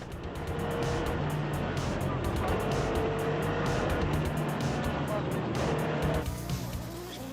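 An Audi Quattro S1 rally car drives hard at a rally stage, its engine roaring continuously with squealing tires and loud, rough road noise.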